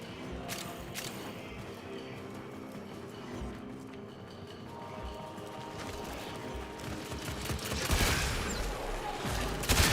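Incarnon weapon firing in Warframe, a dense stream of rapid gunfire bursts under game music and effects, growing louder and heavier toward the end.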